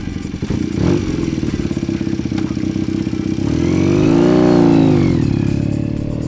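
A rebuilt custom 250 motorcycle on a test ride, its engine droning loud and steady, then rising and falling in pitch as it revs up and eases off, with no voices.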